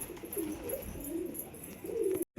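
Several pigeons at a pigeon house give soft, throaty coos in repeated rolling phrases, near and steady, before the sound cuts off abruptly at the end.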